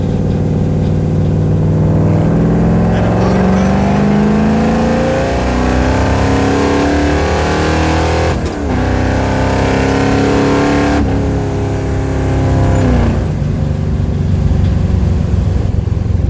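A carbureted car engine fitted with FiTech fuel injection revs hard and climbs to around 5,000 RPM, a loud close roar that rises and falls in pitch through repeated throttle pulls.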